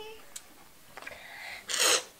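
A single sneeze bursts out near the end, loud and close, after a few small breaths and faint vocal noises.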